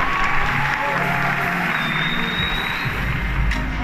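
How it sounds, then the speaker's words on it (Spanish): Crowd applause at an otaku and cosplay convention after a cosplayer dressed as Dr. Plea is introduced, a broad steady wash of clapping from a gathered audience with some background murmur, loud and continuous throughout. "un aplauso para el compañero"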